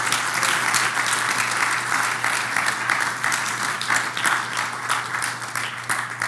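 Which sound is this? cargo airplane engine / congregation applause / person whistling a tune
congregation applause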